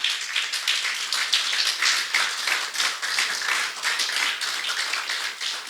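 Church congregation clapping for the Lord during a sermon, a dense, steady round of hand claps filling the room for several seconds with no voice over it.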